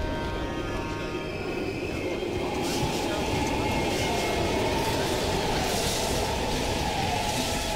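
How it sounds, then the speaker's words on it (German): A train rolls past in the video game Call of Duty Black Ops Cold War, a continuous broadband rumbling clatter of moderate loudness that swells slightly midway. "Wir können den Zug nutzen,"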